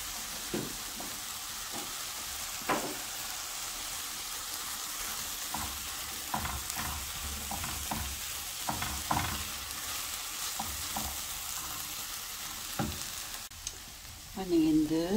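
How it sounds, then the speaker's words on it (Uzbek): Flour frying in water with a pinch of dried garlic for mushroom soup, a soft steady sizzle with intermittent stirring scrapes close by and no talk until a brief sound at the end. "mana shu suvda un qovuriladi"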